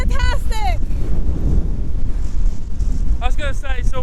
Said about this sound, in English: So windy, my breath keeps getting stolen.